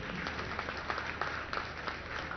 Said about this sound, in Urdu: کمزور تالیاں ذرا زور والی ہونی چاہیے.